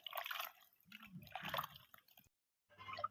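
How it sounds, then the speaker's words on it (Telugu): Tamarind water poured into a pot of korrameenu (snakehead) fish curry, giving wet dripping and squishing liquid sounds in several close bursts, with a brief silent gap before a final splash. "ఇప్పుడు గుడ్డు దీంట్లో చింతపండు నీళ్ళు పోద్దాం చేపల్లోకి"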